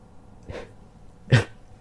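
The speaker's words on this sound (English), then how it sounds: "Sorry, really bad coughs there." Two short, close coughs about a second apart, the second louder and harsher, with near silence around them.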